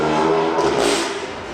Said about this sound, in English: The decatted downpipes made the car sound absolutely ridiculous.